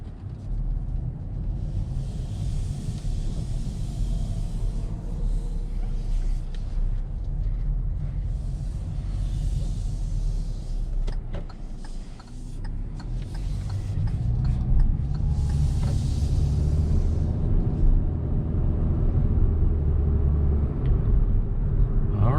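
A 2022 Hyundai Venue drives along the road, its low, smooth road and engine rumble steady from inside the cabin and swelling louder partway through.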